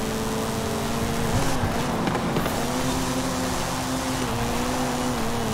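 A racing car engine in Forza Horizon 5 drones at a loud, sustained pitch as it accelerates, shifting briefly midway and then holding a steady roar.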